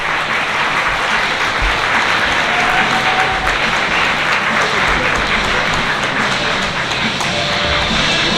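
Wedding guests give a long, loud round of applause for the bride and groom, a thick crowd clapping sustained at full strength with scattered individual claps standing out and faint murmurs beneath.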